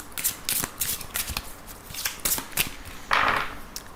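Lenormand cards are shuffled by hand for a thirteen-card reading, giving a run of close, crisp riffling and flicking bursts in irregular rhythm, with a louder, longer riffle near the end.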